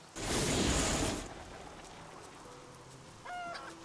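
Chickens clucking in the video game Diablo 3, a short burst of clucks over a rain-like wash of game ambience, followed by quieter tonal in-game effects.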